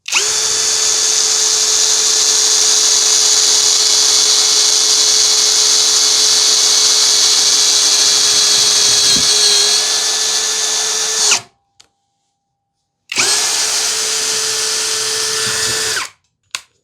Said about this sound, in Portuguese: teste de aparafusamento em metalão de chapa grossa com parafuso autobrocante